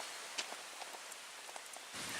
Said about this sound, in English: We're just going to hike in this rain, and there's still some lightning and thunder around.